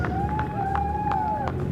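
Crowd cheers and scattered clapping after a car race in the MRF Challenge series, heard from a distance over a steady droning tone and continuous background noise.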